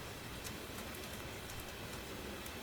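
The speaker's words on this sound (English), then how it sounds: "You can hear each drop tap against the window glass, creating a gentle percussion that blends with the rhythmic clatter of the wheels" Train wheels clatter on the track beneath a steady wash of rain tapping against window glass, with faint drops ticking now and then over the even hiss.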